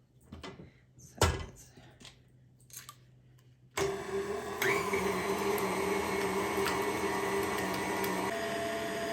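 Electric mixer blending sugar with other ingredients in a bowl for chocolate chip mandelbrot, starting abruptly after a few light clatters and then whirring steadily and loudly to the end with no talk.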